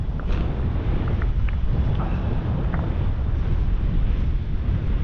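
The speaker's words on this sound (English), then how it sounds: "It's blowing an absolute bloody hoolie" Strong, freezing wind buffets the microphone at the Conwy Estuary, a loud, steady roar that carries through the whole stretch with no talk.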